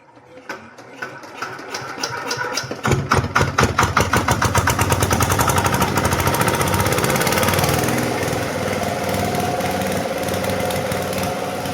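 A Petter diesel pump engine on a farm kicks over and catches, its loud rapid chugging settling into a steady running roar that continues to the end without speech.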